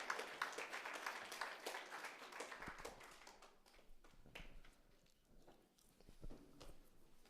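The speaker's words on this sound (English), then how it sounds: "Thank you for a round of applause." An evening audience claps to welcome a panelist, with a brisk burst of many hands at first that thins into scattered, fading claps and a few footsteps.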